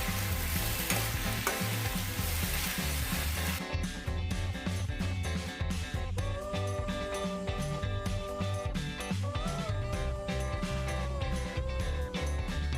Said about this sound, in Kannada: ಚಿಕ್ಕದಾಗಿ ಕಟ್ ಮಾಡಿ ಇಟ್ಕೊಂಡಿರುವಂತಹ ಪತ್ರೊಡೆಯನ್ನು ಸೇರಿಸಿದ ನಂತರ 3 ರಿಂದ 4 ನಿಮಿಷಗಳ ಕಾಲ ಚೆನ್ನಾಗಿ ಫ್ರೈ